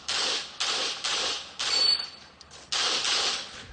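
Pistol shots ring out during a practical shooting competition stage, sharp loud cracks in quick bursts separated by short pauses, close and dominating the scene.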